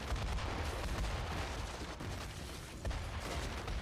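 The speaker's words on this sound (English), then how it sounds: "And what are the explosions coming from?" Explosions rumble through the video game Metaphor: ReFantazio, a continuous heavy barrage of booms and blasts with no voices over it.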